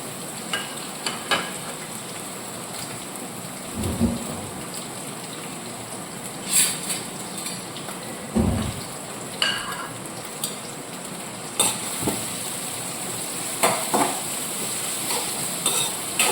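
Garlic, ginger and green chili sauté in hot oil with a steady, rain-like sizzle, broken by occasional scraping stirs and clinks of a utensil against the pan, close and continuous.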